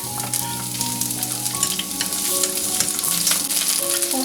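Onion stir-fries in hot oil in a heated wok for a beef and oyster sauce dish, making a loud, continuous, close-up sizzle and hiss with no talking.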